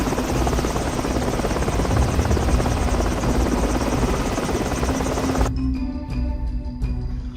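A helicopter's steady, loud rotor drone holds close and constant for several seconds, then the upper hiss cuts away abruptly, leaving a thinner lingering buzz as the machine departs.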